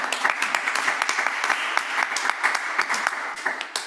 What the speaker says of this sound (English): Hello. Hello. Applause.